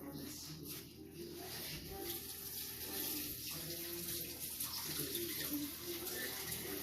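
Water from a kitchen tap runs steadily while dirty hands are washed during home cooking, a soft continuous splashing heard at a moderate distance with some faint background noise.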